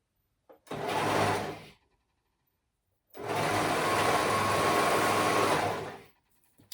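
Sewing machine stitching binding onto a flounce top, two close, steady motor runs, a short burst then a longer stretch, separated by a pause of quiet.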